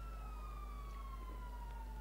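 A police siren wails behind the player in the video game GTA 5, a steady sweeping tone that slowly falls in pitch over a low engine rumble, without speech.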